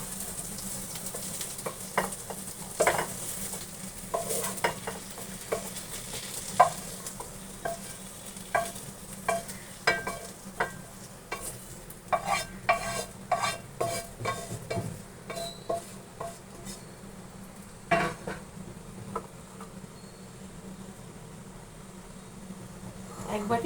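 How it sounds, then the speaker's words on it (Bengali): A spoon scoops pointed gourd and prawn curry from a pan onto a plate in a home kitchen, with repeated scraping and clinking over a faint sizzle and a steady fan hum. "আমি এটা এবার এখানে প্লেটে নিয়ে নিচ্ছি।"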